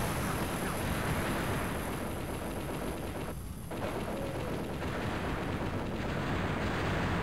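Constant dense gunfire and blasts from the Sega Saturn shooter Chaos Control, a loud unbroken barrage with a brief dip midway, no voices.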